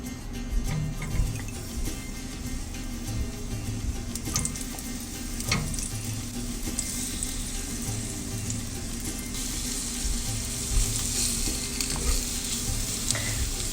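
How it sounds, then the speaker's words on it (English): Dates sauté in oil in a pan with added cinnamon, a steady close sizzle with light stirring scrapes throughout, no voices. "Do not fry the dates too much, just a little bit, sauteing it."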